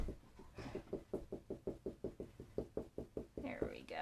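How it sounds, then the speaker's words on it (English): A marker taps rapidly against a table while stippling a drawing, giving a steady run of about twenty faint, evenly spaced knocks, close to the mic, with soft speech near the end. "You can kind of hear it knocking against my table."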